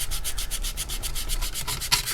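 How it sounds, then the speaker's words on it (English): Light sanding of a painted model car body gives a rapid, rhythmic rasping of repeated short strokes, close and steady, with no voices. "Let's do a lighter sand just to get a look here."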